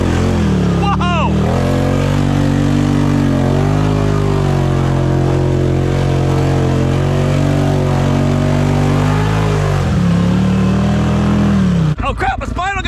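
A Can-Am Outlander ATV engine revs steadily at low, partial throttle, a loud sustained drone that dips near the end before brief handling noises; a voice briefly exclaims early on.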